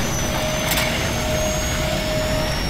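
A loud, continuous mechanical roar of a helicopter engine with a high whine, steady throughout, in Call of Duty Modern Warfare game audio.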